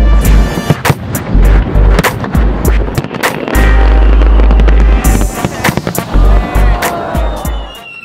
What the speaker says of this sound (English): The nightly fireworks displays.